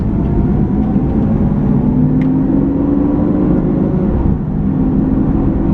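Lamborghini Aventador V12 cruising steadily after an automatic downshift, a loud, constant engine drone with a faint rising tone and no speech.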